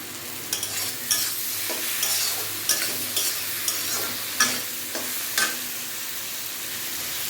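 Chopped tomato fries in a pan with chili powder and salt. A steady sizzle runs throughout, broken by about eight distinct spatula scrapes and clacks at irregular intervals. There is no talking.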